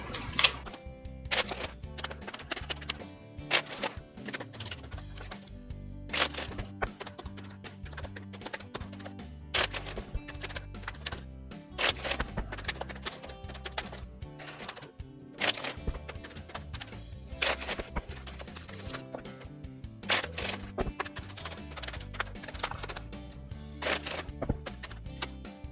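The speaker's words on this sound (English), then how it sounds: "Let's shuffle up this other deck" Tarot cards from a Crystal Power Tarot deck being shuffled, giving repeated bursts of riffling and snapping card sounds in a steady, close rhythm, with no voices.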